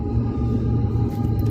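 A car rolls through an underpass at night with a close, steady low engine and tire rumble, no voices.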